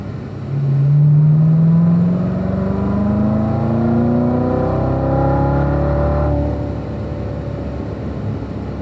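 A Corvette engine on the Spring Mountain race track climbs steadily in pitch as it accelerates through the gears, loud and close, then eases off toward the end.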